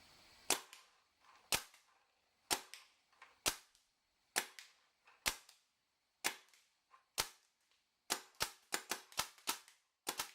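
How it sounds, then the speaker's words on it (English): Paintball marker fired with its stock barrel, a series of sharp, close pops, first spaced about a second apart and then quickening into a rapid cluster near the end, each crisp against a quiet background. "We're going to shoot the stock first, then we will shoot the Fibur Deadlywinds barrel."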